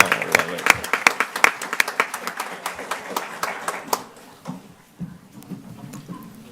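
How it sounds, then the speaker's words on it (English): A school board meeting audience gives a round of applause, brisk overlapping claps for about four seconds that thin out and fade, with voices talking as it dies down. "if we can give Ms. Keys a round of applause"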